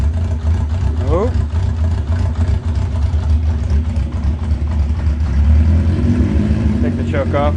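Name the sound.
car engine running after a cold start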